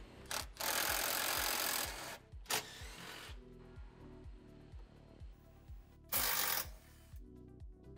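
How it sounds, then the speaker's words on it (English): A ratchet with a 13 mm socket turns fuel tank strap bolts on a Polaris RZR Pro R, giving rapid evenly spaced clicks in several runs with brief louder scraping bursts between them, close up and without talk. "using a 13 millimeter socket, we're going to remove the strap holding the fuel tank down"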